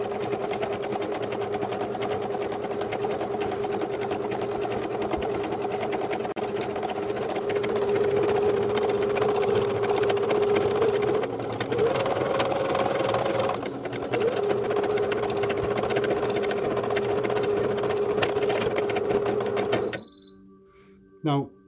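Babylock Espree EM1 embroidery machine stitching steadily with a loud, continuous mechanical whir and rapid needle rhythm, shifting pitch slightly midway, then stopping abruptly near the end.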